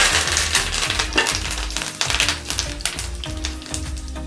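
Mustard seeds and curry leaves spluttering in hot oil while tempering for red chutney, a dense crackling sizzle with rapid popping close up.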